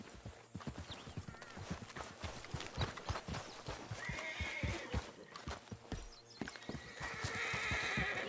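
A horse in the western game Red Dead Redemption 2 whinnies twice over steady clip-clopping hooves, close and clear, with ambient game sound underneath.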